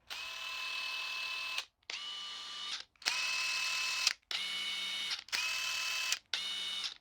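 DeWalt DCF870 hydraulic impact driver running in six bursts of a steady whirring hum, each lasting about a second, separated by short silent gaps, loud and close with no talking.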